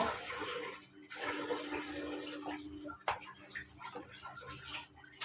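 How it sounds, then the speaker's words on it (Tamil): Cooking oil, about five to six litres, poured into a large pot for biryani, giving a steady liquid splashing and gurgling with a sharp knock near the middle, under faint background voices. "எண்ணெய் ஊத்துறோம்."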